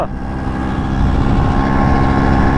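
A 1976 vintage Vespa two-stroke scooter engine runs steadily and loud up close, a dense droning rumble that rises slightly after the first second and holds.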